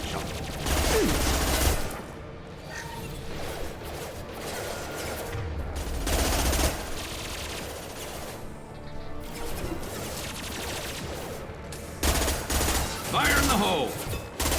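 Gunfire in the video game Mass Effect 2, with bursts of shots and crashing impacts coming in loud waves over a busy battle backdrop, some stretches quieter between volleys.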